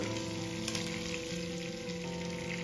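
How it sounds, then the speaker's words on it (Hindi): Bay leaf and cloves sizzle steadily in hot butter in a pan, a continuous close crackling fry with no break and no talk throughout. "जैसे ये गर्म होगा मैं इसमें डालूंगी एक तेज पत्ता पांच लौंग"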